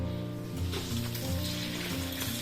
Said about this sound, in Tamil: அப்பளம் பாருங்கள் நிறையா பொரிக்கிறேன் பாருங்கள்